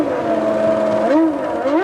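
1996 Williams Formula 1 race car engine screaming at high revs, loud and close, with pitch sweeping up and down through gear changes and no voices.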